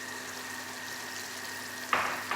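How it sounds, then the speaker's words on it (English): Steady, gentle sizzling of food frying in a non-stick pan, with a brief louder crackle and scrape near the end. "So I am frying this in the Moko non-stick pan, which I always use."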